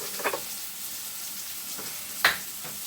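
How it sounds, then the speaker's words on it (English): Smothered cabbage sizzles steadily in a pan with the heat off, a soft, constant hiss punctuated by a couple of brief, sharper crackles and clinks. "as soon as that stops sizzling"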